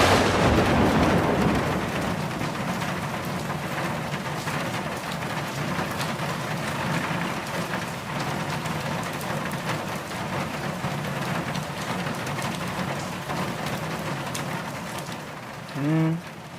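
Steady rain falls outside a small shop, a dense, even hiss that holds close and loud for the whole stretch, with no voices over it.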